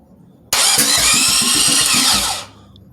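A car engine fitted with a brand-new starter and a Comp Cams XPZ camshaft cranks briefly and fires up loud and close, running steadily for about two seconds before cutting off.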